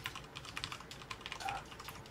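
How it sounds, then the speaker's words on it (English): Quiet, quick clicking of keys on a computer keyboard, irregular taps in a short burst, close by and soft. "Typing it in now."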